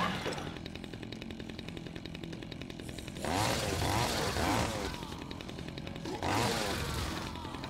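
A chainsaw in the video game Dead Rising 2 drones steadily with a buzzing idle, then revs into two loud, rasping bursts, with faint in-game clatter around it.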